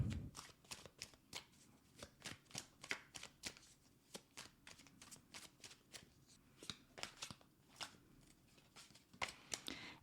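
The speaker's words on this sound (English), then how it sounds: "as I'm shuffling" Tarot cards being riffled and bridged over and over, crisp rapid flutters in a fairly steady rhythm, close and quiet, with no talking.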